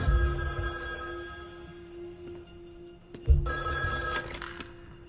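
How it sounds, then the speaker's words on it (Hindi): A telephone bell rings in bursts, a loud ring at the start and another after a short pause around the middle, heard in a hotel with room noise between rings and no talk. "जनाब आपके लिए फोन है।"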